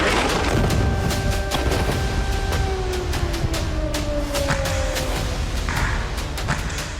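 Explosions in Gaza during a military operation, heavy booms and crashing blasts in quick succession over a dense rumbling background, loud and harsh throughout.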